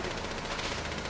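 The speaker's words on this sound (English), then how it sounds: "He just shoot through the wall." Gunfire through a wall in Rainbow Six Siege, a loud, dense, unbroken stream of rapid automatic shots filling the whole moment.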